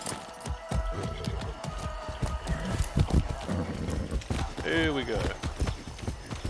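Horse hooves clip-clopping at a steady trot while riding in the game Far Cry 6, a continuous rhythmic clatter with a brief whinny midway and someone speaking over it.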